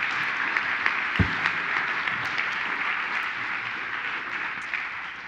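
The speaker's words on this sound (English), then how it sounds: "let's give them another round of applause" Steady applause from a church congregation for a departing band, dense clapping held evenly for several seconds at moderate loudness without voices.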